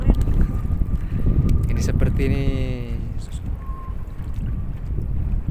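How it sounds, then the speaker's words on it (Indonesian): Strong wind roars over open sea at night during a fishing trip for squid and fish, a steady loud rush and buffeting across the whole stretch with water and boat noise beneath, while someone talks over it. "Ini lumayan ekstrim ini pemirsa ini. Kencang angin ini."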